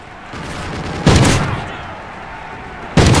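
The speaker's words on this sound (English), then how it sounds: "I'm taking fire over here." Video game gunfire in a military shooter: a low running rumble, then two sharp loud shots or blasts about two seconds apart, with no talk.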